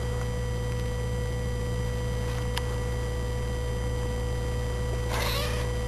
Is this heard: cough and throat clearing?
no